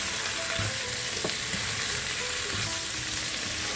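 Chicken and mushroom stir fry sizzling in a pan, a close, continuous crackling fry with light scrapes and taps of stirring, no voices.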